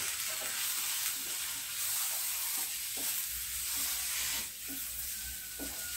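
Tomatoes fry with pepper, garlic and masala powder in a pan, giving a steady, moderately quiet sizzle broken by soft, regular scraping strokes from stirring.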